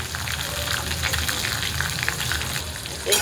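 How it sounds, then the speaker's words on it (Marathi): Chopped tomatoes sautéing in hot oil in a pan, a steady bubbling sizzle with crackling pops throughout, close and moderately loud, ending in a brief clatter. "छान असं तेलामध्ये परतून झालेला आहे टमॅटो"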